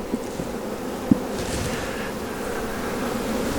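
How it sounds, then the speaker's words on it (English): Close, steady buzzing of bees in a hive during a builder check, a continuous droning hum with a couple of brief knocks, no talk. "there's like 5 bees"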